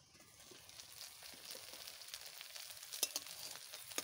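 Hilsa paturi, fish wrapped in leaves, sizzling and frying in a pan, a continuous crackling hiss with a few sharper pops as it is turned over, no talking.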